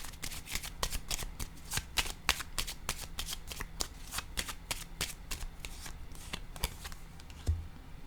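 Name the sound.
shuffling and drawing tarot cards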